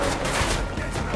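Enemy gunfire aimed at the player in Deus Ex: Mankind Divided, a short stretch of dense, continuous shooting at steady loudness.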